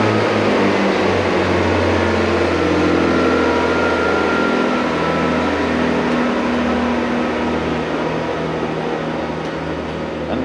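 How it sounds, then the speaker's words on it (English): A diesel engine runs steadily and fairly loud throughout, a continuous low rumble with a droning hum and no speech. "That is the sound of diesel, my friend."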